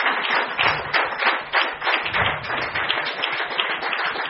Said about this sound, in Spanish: ¿Cuánto aplauden al Señor?